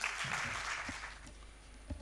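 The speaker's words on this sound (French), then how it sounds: "sous vos applaudissements nourris, s'il vous plaît." An audience at a ceremony in Abidjan gives a brief, faint round of applause, a soft continuous patter heard from a distance.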